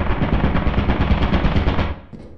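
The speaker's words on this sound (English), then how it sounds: "About that turret that was downstairs, right? That was so loud." Turret in the video game Lethal Company firing a rapid, loud burst of automatic gunfire for about two seconds before cutting off abruptly.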